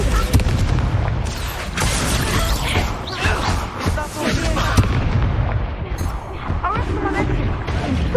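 Descendo spell slamming down in Hogwarts Legacy: a dense, loud stretch of crashing booms and impacts, one after another, with game effects and voices mixed through.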